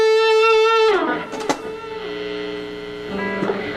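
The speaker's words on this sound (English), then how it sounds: "you need just like a real good singing kind of distortion sound. So I have this old Rat pedal that I've been using for years" Electric guitar played through an old Rat distortion pedal, a long sustained fuzzy note bending down, then scattered picked notes and a held chord, loud and alone.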